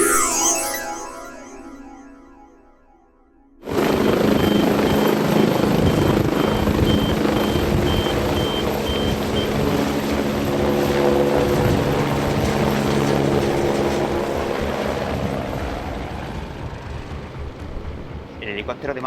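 The emergency medical helicopter of Málaga, which also covers part of Granada, starts up abruptly into a loud, sustained roar of engine and rotor that carries on steadily for many seconds.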